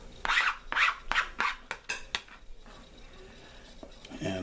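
A butter knife pries and scrapes coconut meat away from the hard shell in a series of close, rough scraping strokes, a few quick ones in a row, then quieter handling.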